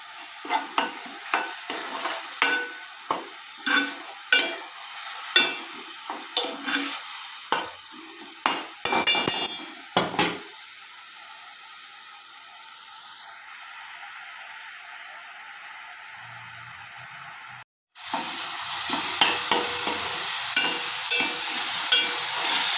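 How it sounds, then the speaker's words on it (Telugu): Onion paste fries in oil while being stirred, a run of rhythmic spoon scrapes against the pan for about ten seconds, then a quieter sizzle and finally a louder steady frying hiss, with no talking. "అది ఇందులో వేసుకుని బాగా బ్రౌన్ కలర్ వచ్చే వరకు అందులో వేయించాలి"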